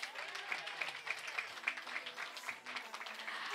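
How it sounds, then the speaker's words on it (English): Applause for newlyweds at a wedding reception, a steady, moderately distant patter of many hands clapping together with light crowd noise. "let us give them another rousing round of applause"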